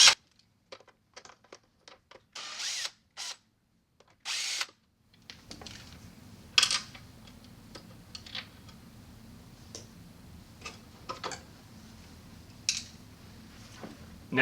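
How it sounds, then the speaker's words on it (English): Screws being removed from a Clearion 300 or 360 water softener control valve, with short bursts of a power driver followed by a low steady hum and scattered clicks and ticks, close and fairly quiet. "Now you're ready to disassemble the valve, starting by removing these 2 screws"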